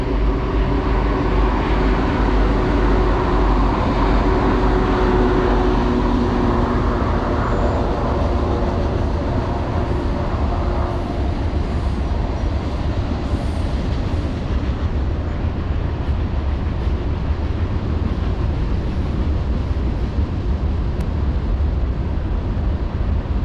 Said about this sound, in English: Another train, this one closer.